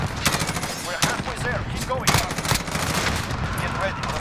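Rapid automatic fire from an M4A1 assault rifle in the Modern Warfare video game, a dense steady stream of loud close shots with a few brief gaps, while a person talks over it.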